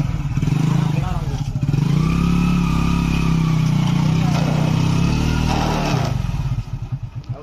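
A Hero Splendor motorcycle engine labours and revs steadily as the bike climbs an incline, a close, loud, continuous drone that eases off toward the end while people talk over it.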